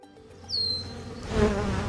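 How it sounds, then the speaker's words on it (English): Honey bees buzzing around their colony as they prepare for winter, a steady insect drone with one bee passing close, the hum swelling louder near the end. "we're exploring different colonies of bees to see just how busy they are preparing for the winter"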